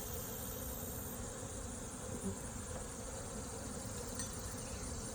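Honeybees drone steadily around the frames of a small rebuilding colony, a continuous soft buzzing hum with no pauses and no talk.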